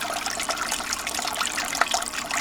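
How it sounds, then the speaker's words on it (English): Water flowing steadily out of a GOLDROP gold recovery unit and discharging into a tailings bucket, a continuous bright splashing and trickling stream, loud and close throughout. "discharge into the tailings bucket, that's our water flow"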